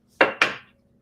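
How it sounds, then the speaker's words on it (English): Fresh basil chopped into small pieces on a kitchen board, two quick close knife strikes in a row, then silence. "I'm just going to go ahead and start chopping the basil"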